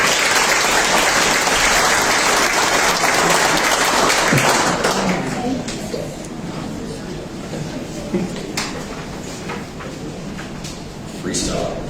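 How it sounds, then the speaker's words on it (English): At a Far West sporting hall of fame ceremony, a hall crowd applauds loudly for an inductee. The clapping is dense for several seconds, then thins into scattered claps and thumps as the room settles. "round of applause to Tani Tester."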